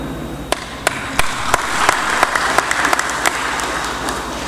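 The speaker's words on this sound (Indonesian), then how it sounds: "kayaknya tepuk tangannya kurang keras." An audience at a military regional command event in Gorontalo applauds steadily, a dense wash of clapping with sharper individual claps standing out at regular intervals.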